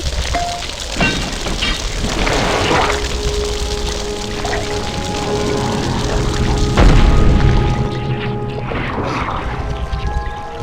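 A fiery Incendio spell goes off in the PS1 Harry Potter and the Sorcerer's Stone game, a loud booming whoosh that swells and rumbles on for several seconds over a washy in-game background, with no voices.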